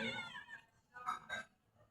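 Stray cats meow for food near the door of a home, giving a few short, quiet meows spread across two seconds over soft background noise.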